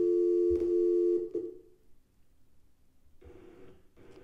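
A telephone call over a Cisco UCCX phone system being placed: a loud steady tone that cuts off, a brief click, near silence, then a fainter ringback-like tone returning at the end.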